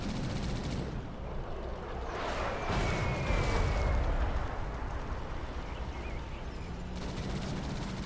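Gatling tank gunfire and battle noise in the real-time strategy game Rise of the Reds, a dense, continuous rattle of rapid shots with a louder swell in the middle, fairly faint overall.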